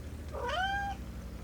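A cat gives a single clear, rising-then-falling meow, close and moderately loud, over a low steady background hum.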